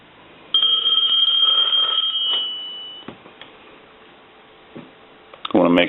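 A brass Majesty telephone's bell rings in one loud metallic burst lasting about two and a half seconds, then decays, followed by a few faint clicks and a handling clatter at the end.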